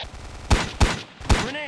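Three distinct, punchy gunshots from the weapon sounds of the Heroes Unleashed game, evenly spaced about half a second apart, each with a heavy low thump and a short ringing tail, loud and close.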